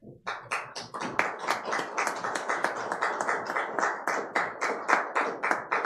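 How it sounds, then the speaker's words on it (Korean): A church congregation applauds to welcome new members during a Sunday service, a steady run of distinct claps, fairly sparse and rhythmic, close and moderately loud for several seconds. "일어나셔서 큰 박수로 환영해 주시기 바랍니다."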